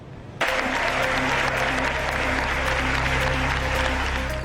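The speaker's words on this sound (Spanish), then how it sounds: "con aplausos y ovaciones" Applause and ovations for a report at the head of the National University break out suddenly and hold as a thick, continuous wash of many hands, loud and sustained with a faint tone running underneath.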